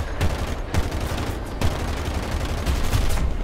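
Aircraft guns fire in War Thunder during a jet dogfight, a loud, dense rattle of rapid gunfire with several sharp bursts punctuating a continuous roar.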